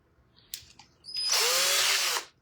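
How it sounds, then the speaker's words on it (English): A power drill bores a hole into a small wooden craft block, a loud steady whine lasting about a second after a brief starting blip, then stopping abruptly. "I'm going to go ahead and drill a little hole in this one."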